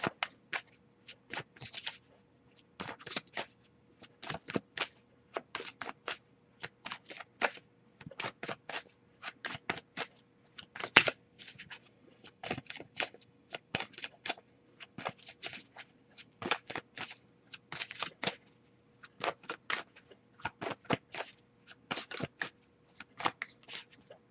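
Cards shuffled repeatedly and steadily, a long run of quick papery riffles and flicks close by, with no talking.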